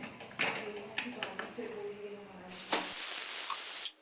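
A pressure cooker whistle: a loud, steady high-pitched hiss of steam bursts out and holds for over a second, after some quieter clatter and faint background voices, while cooking Kashmiri haakh greens.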